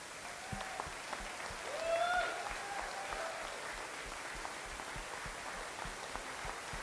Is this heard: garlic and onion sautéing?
no